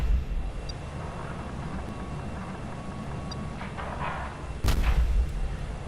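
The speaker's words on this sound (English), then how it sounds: "Firing at target, and then howitzer" A single heavy boom from a howitzer rings out in Kerbal Space Program land combat, following a low, steady rumble of engine drone.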